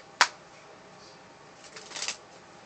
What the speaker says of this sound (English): so you can shuffle up the deck